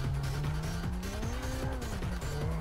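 A car drifts around a track in a video game, engine roaring loud and continuous with shifting pitch while tires squeal throughout.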